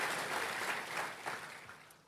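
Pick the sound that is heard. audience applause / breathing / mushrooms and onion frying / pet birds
audience applause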